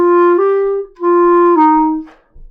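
A 5th grade beginner-book clarinet exercise plays slurred eighth-note pairs, clear sustained reedy tones in a short phrase of two slurred groups with a brief breath gap, close and solo with no talking.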